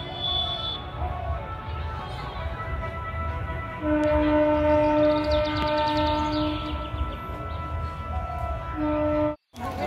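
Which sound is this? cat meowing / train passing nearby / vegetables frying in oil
train passing nearby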